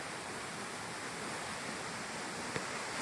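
Water pours down at the Dabhosa waterfall in a scenic natural setting, a steady, dense roar of falling water that continues evenly throughout with one brief sharp knock near the end.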